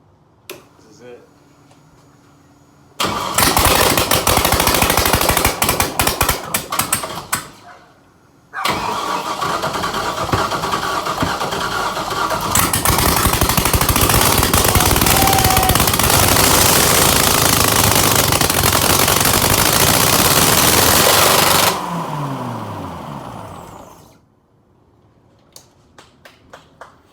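An LS V8 swapped into an FRS car cranks and fires for its first startup, roaring very loud and close with a rough, choppy idle. It cuts out briefly, then restarts and revs hard before shutting down into near silence.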